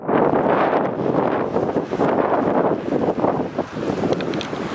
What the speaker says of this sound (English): Whoa, it's super windy.